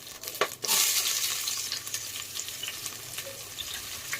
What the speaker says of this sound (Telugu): ఆనియన్ వేసేసి మంచిగా గోల్డెన్ కలర్ వచ్చేదాకా మనం దీన్ని ఫ్రై చేస్తాము.